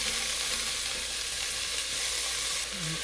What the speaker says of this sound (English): Just stir that around, scrape the bottom.